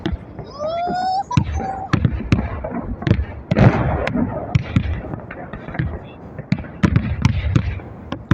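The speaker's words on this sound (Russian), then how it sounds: "И вон там салют." Holiday fireworks salute over Vorobyovy Gory in Moscow on Victory Day, 9 May: a rapid series of sharp booming bursts and crackles, some near and loud, over crowd chatter, with a whistle rising at the start.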